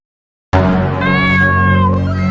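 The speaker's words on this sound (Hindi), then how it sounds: "ये देखो मैं तुम्हारे लिए नई बिल्ली लेकर आया हूँ, बिल्ली।" A cat meows once in a loud, drawn-out, close call that starts abruptly after a brief silence and holds steady for nearly two seconds.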